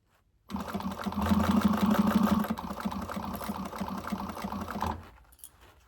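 Sewing machine stitching around the curved gusset of a fabric bag, a steady close mechanical whir with rapid needle rhythm for several seconds before stopping, alone without talk.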